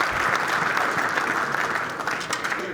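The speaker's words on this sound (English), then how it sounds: "Nice round of applause for Woodward." Audience applause for a pool player after a 9-ball match at the Derby City Classic, a steady, dense clapping from the crowd that holds throughout and thins slightly toward the end.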